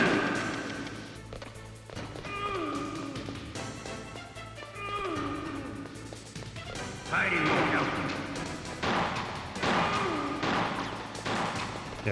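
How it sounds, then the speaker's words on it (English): Bullet ricochets in the Metal Gear Solid video game, several sharp metallic pings and crashes scattered amid gunfire, with someone talking over them. "Yeah, this ricochet thing"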